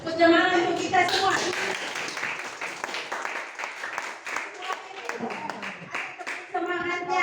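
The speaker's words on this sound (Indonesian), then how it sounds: "Tepuk tangan untuk kita semua." A group bursts into a round of hand clapping lasting several seconds, with a voice speaking just before and after the applause.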